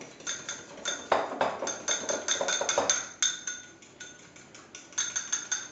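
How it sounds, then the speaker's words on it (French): A fork beats sugar into egg white for chocolate mousse, knocking in a quick, steady run of bright clinks against the bowl, fairly close and with no one talking. "On va le mélanger avec une fourchette, tout bêtement."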